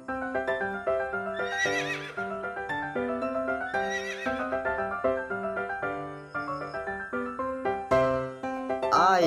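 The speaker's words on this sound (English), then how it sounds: "H for horse." A horse neighs in a children's phonics song, the whinny set within a bright, busy musical backing with repeated melodic notes and no spoken words.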